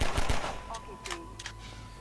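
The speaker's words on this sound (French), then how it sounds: "Je tire très vite, hein, vous avez vu." Gunfire in the video game Half-Life 2, heard as a couple of sharp close shots at the start, then quieter game sounds and faint whooshes trailing off.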